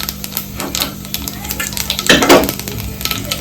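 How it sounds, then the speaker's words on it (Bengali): Black cumin (nigella) seeds crackling in hot oil for tempering while cooking bhola fish in mustard paste, a steady light sizzle with a louder burst of spitting midway and faint pan clatter. "কালো জিরে ফোড়ন দিলাম"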